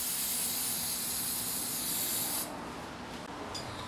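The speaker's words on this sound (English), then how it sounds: "we are now going to use the paint to prevent it from rusting" Rust-prevention spray paint hisses steadily from a can onto a Pontiac Fiero part, one continuous close spray lasting about two and a half seconds before it cuts off into quieter room noise.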